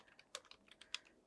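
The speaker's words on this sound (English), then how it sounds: "I could try typing something like make" Light, quick keystrokes on a computer keyboard, about eight soft irregular clicks, faint and close with no talk.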